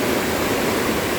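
A large, swollen river, the Babbal Khola, flows near the rock garden at Oso Park in Nepal. It makes a steady, close, full rushing roar that never changes over the whole moment, with no voices.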